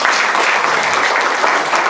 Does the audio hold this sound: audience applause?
yes